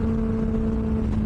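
Benelli 600i motorcycle engine and exhaust holding a steady, loud drone while accelerating through the gears on the road, a continuous close hum with no pauses.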